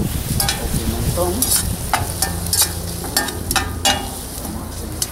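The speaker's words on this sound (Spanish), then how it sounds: "Vamos a seguir friendo." A chicken soup base is frying in a pan with paprika added, making a loud, steady sizzle. Scraping stirs and clinks rise over it now and then, close up and continuous, with no talking.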